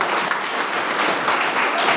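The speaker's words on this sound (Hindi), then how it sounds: "उनको तालियों के साथ आप लोग स्वागत करें।" A crowd at a political Ambedkar discussion gathering applauds to welcome a former legislator, a dense, steady wash of many hands clapping at once, loud and continuous for the whole moment.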